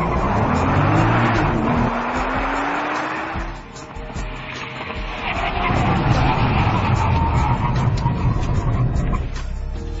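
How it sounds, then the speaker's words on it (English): A Nissan R35 GT-R with standard steel Brembo brakes braking hard from 100 mph on a track, a loud engine roar with falling pitch and tire noise as the car slows, then rising again. "We're going to do a 100 to 0 braking and 60 to 0 both."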